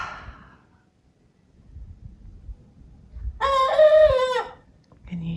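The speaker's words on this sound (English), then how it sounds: "it turns out that Lucy is indeed a cockerel." A cockerel crows once, nearby and clear, with a rising and falling call of about a second against quiet outdoor background noise, and a brief faint noise before it.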